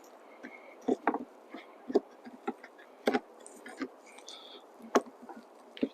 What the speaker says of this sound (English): There's bees messing around in here